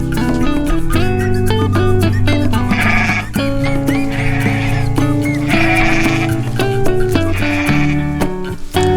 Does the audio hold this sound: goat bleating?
yes